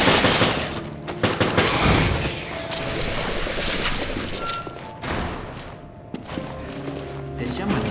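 Gunfire from the video game Resident Evil: Revelations, loud bursts of shots in irregular clusters over a busy game soundtrack, with voices talking at times.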